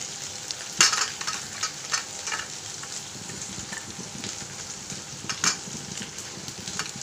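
Garlic frying in a pan for fish head curry, a steady low sizzle with soft stirring scrapes and a few brief clinks throughout, close and fairly quiet.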